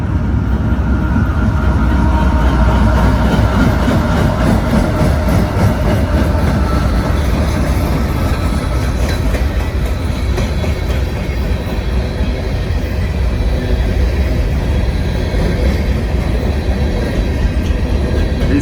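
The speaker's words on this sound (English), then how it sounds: "It's like a coal train." A long coal train rolls past close by, its wagons rumbling heavily with steady clickety-clack from the wheels and faint metallic squeals, loud and continuous from start to finish.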